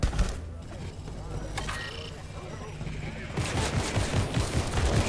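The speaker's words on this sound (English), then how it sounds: "Are they shooting at us? Oh, yeah, they are shooting at us." Gunfire in the video game Fortnite crackles as scattered shots over busy in-game noise, growing denser and louder in the last couple of seconds.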